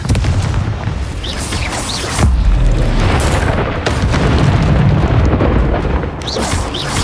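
Loud, dense Confringo blasting-spell explosions in the Hogwarts Legacy video game, with heavy low booms rolling over one another through a noisy combat din, surging louder midway and staying strong to the end.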